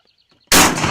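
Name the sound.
gunshot at a turkey while hunting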